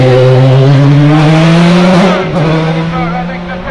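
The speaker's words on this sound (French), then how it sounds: "Notre pilote à suivre 2003, propulsé cette fois-ci par un moteur Opel Speed" A 2003 race car powered by an Opel engine climbs the Bagnols-Sabran hill climb course, its loud, close engine whining at high revs before the pitch dips and fades slightly, with a commentator talking over it.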